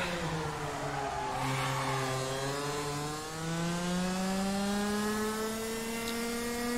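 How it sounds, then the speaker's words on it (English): A go-kart engine in rFactor 2 KartSim drones loud and continuously up close, its pitch dipping briefly mid-run and then climbing steadily as the revs build, with no talking over it. "gotta keep the RPMs up with this kart"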